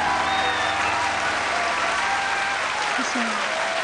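An audience applauds a singer at a singing contest, a dense, steady round of clapping heard close and loud throughout, with a brief voice rising over it.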